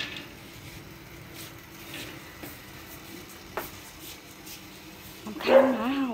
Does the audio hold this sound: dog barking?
yes